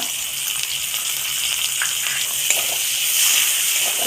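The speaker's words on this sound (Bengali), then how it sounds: "পেঁয়াজটা ভেজে নেবো" Chopped onions frying in mustard oil in a pan for a spicy crab curry, giving a steady, close hiss of sizzling oil throughout with faint clinks, no voices.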